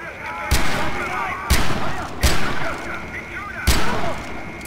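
Four heavy, booming blasts land roughly a second apart in a Far Cry 4 custom multiplayer map, each a loud broadband explosion, such as a thrown grenade, with a rumbling tail over a busy game background.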